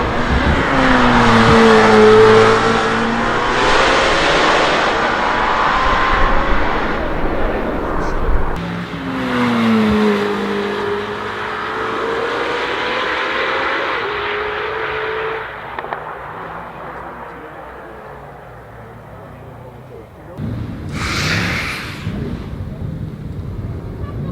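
A Lamborghini Temerario with a 907bhp twin-turbo V8 hybrid that revs to 10,000rpm runs at the Goodwood Festival of Speed, roaring loudly through rising runs and shifts, fading, then surging again with a sharp burst near the end.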